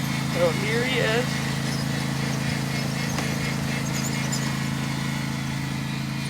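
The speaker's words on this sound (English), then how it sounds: "Lawnmower is running low on steam." A racing lawnmower engine drones steadily at a lap race, holding one even low hum throughout with a voice commenting over it.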